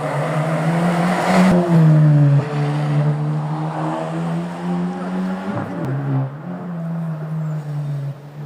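A rally car on a stage of the Rallye Villa de Llanes drives past with a loud, steady engine drone that rises and shifts pitch as it goes by, with spectators talking faintly underneath.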